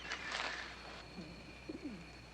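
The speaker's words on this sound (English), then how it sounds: "I hear the voice of a bird." A bird, likely a dove or pigeon, gives a few soft, low cooing calls near the end, close by but quiet, after a burst of broadband rustling at the start.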